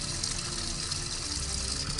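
Water gushes steadily from a fountain into a sports drink bottle during a long mountain trail run in Montseny, a close, loud, continuous stream with no pauses.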